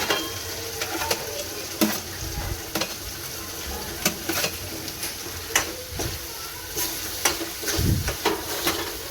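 Paneer cubes dropped into hot oil in a pan for paneer tikka masala, giving a steady close sizzle with repeated scraping stir strokes and occasional utensil clinks, no speech.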